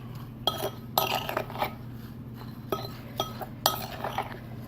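Doorstop dust ingredients being ground together in a mortar and pestle, with sharp clinks and taps in short irregular bursts, close and fairly quiet over a low steady hum.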